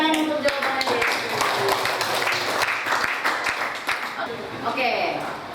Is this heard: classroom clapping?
yes